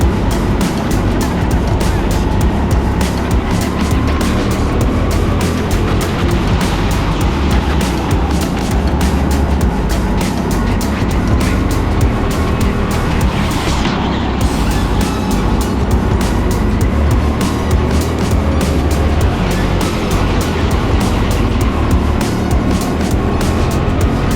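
Go-karts race on an indoor track at TeamSport Sheffield, heard as a loud, continuous roar of engine buzz and rushing noise close by, with a brief rising swell partway through and no clear talking.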